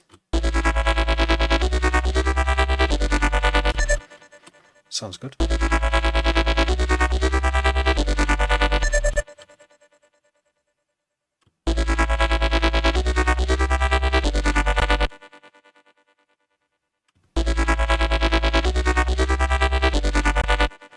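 Loud, dense electronic music plays in repeating bursts with heavy sub bass added back into the mix, broken by abrupt silences; a voice briefly speaks.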